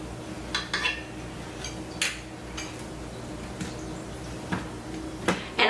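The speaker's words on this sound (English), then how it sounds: "Take the meat fork here and flip them." Short ribs are flipped with a meat fork in a pot, giving scattered light metallic clinks and scrapes over a steady low sizzle.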